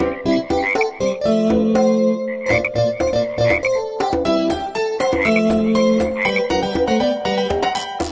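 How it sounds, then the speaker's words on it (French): Cartoon frogs croak loudly in a rhythmic run of repeated ribbits set within a children's nursery song, close and bright, with tinkling musical accents between the calls. "Trois petites grenouilles tachetées, assises sur une bûche tachetée, mangeaient de délicieux insectes."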